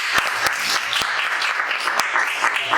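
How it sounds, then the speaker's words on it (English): A church congregation claps for the youths after they speak, a broad, continuous patter of many hands with a few sharper, closer claps standing out, sustained and fairly loud. "Can we give them a clap?"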